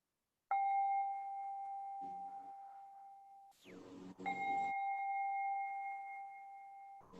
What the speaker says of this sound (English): as we listen to the bell and breathe